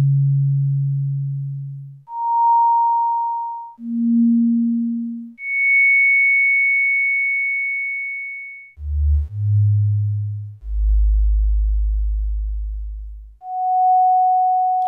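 Generative sci-fi music from a Pure Data patch, made of pure sine tones that step between sustained pitches, high and low, each note fading slowly before the next, with deep bass tones near the end.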